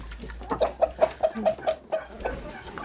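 Several hens cluck in a quick rhythmic series of short calls, close and moderately loud, with faint rustling around them.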